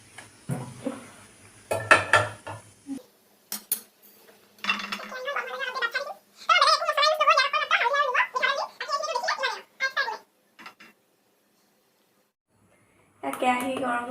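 A large kadai holding some water being set and shifted on a lit gas stove, a few metallic clanks and knocks near the start, followed by a long stretch of close talking, then quiet.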